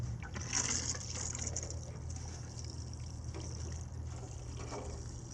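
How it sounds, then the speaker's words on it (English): Water from a watering can soaks freshly filled soil in a gutter planter for a vertical vegetable garden, a quiet continuous trickle and splash close by with no talking. "take your watering can and just water it in"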